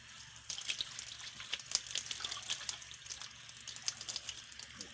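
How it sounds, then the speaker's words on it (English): Water runs from a tap on a treated water filter tank, a soft steady splashing and trickling stream close by, fairly quiet with small irregular bursts, and no voices. "We are taking a sample of the water from the treated tank."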